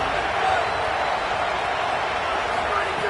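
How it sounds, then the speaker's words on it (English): A Texas Tech Red Raider football crowd roars steadily on third down during a game against USC, a dense, continuous stadium wash of cheering and noise that holds at an even level throughout. "The Red Raider crowd rising to the occasion to help its defense on 3rd down"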